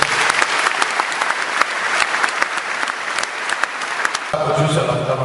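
Applause from a concert-hall audience, a dense, loud wash of many clapping hands that fills the clip and gives way to music near the end.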